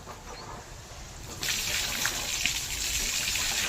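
Water gushing steadily from a burst pipe in a farm field outdoors, a continuous rushing flow that grows louder partway through and carries on without pause.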